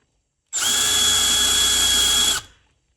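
A 3/8 countersink chamfer bit cuts on a CNC machine, a steady high-pitched whine that starts abruptly, holds evenly for about two seconds, then stops and spins down, loud and close with no talk.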